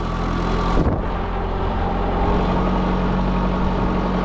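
A Kubota GT5 tractor engine drones steadily and close while planting potatoes in a field with a Polish hiller, a continuous loud hum with no talk.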